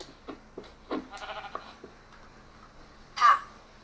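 A blocky sheep bleats once in a Minecraft-style video game, a short, fairly loud call near the end that follows a few scattered earlier game sounds.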